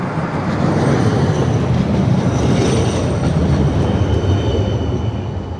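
A tram rolls into a station platform in West Bromwich, producing a loud, continuous rumble of wheels on rails that swells and holds steady, heard nearby with no talking.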